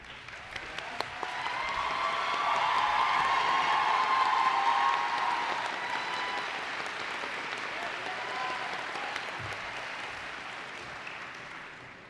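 Audience at a community college commencement ceremony applauds faculty and staff, a broad wash of clapping from a large hall crowd that swells in after a few scattered claps, holds steady, then tapers gently.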